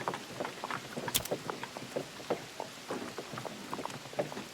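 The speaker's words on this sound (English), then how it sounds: "Heavy clouds roll in quickly and soon thereafter dump their rain" Rain pours onto a muddy trail in the Oregon Trail game, a faint, steady patter of scattered drops and soft splashes that continues throughout.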